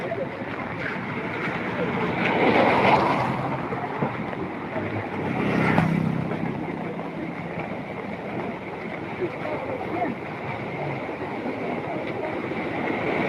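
Heavy rain falls as a continuous broadband wash that swells louder twice, with deep rumble underneath.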